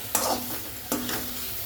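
Large pieces of okra sizzle in a hot pan while being sautéed for sambar, with two bright stirring scrapes over a steady frying hiss, close and fairly loud.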